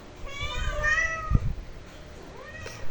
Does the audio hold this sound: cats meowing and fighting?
yes